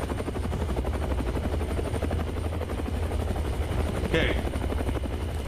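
A helicopter in the video game Follia Dear Father thuds with a rapid, rhythmic rotor chop that stays loud and close, with a voice briefly speaking near the end.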